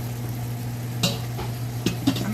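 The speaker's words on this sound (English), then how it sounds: "I'm actually going to add a little bit more liquid." Liquid poured into a pan of simmering shredded flank steak ropa vieja, a steady low sizzle with a few soft stirring scrapes and clinks close by, no voices.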